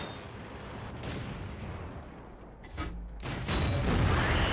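Artillery fire in World of Tanks, heard as a rumbling, muffled roar of distant booms with a couple of sharper impacts near the end, continuous and fairly loud with no speech.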